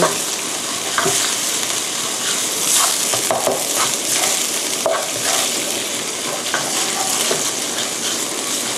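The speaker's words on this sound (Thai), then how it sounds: "ใช้ตะหลิวนะคะขยี้นะคะ ให้หมูสับนะคะ แยกตัวออกจากกัน" Minced pork fries loudly in a pan while a spatula scrapes and breaks it apart, a continuous close sizzle broken by clattering stirring strokes.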